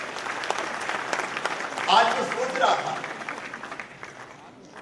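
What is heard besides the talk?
audience applause at an auditorium inauguration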